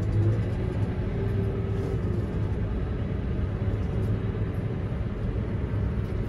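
A Bateman sprayer with a 225-horsepower engine pulls away on hilly ground, giving a steady, loud low rumble that holds even throughout with no voices.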